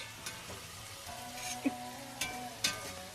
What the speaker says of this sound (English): sauteing the onions, looking good on the cast iron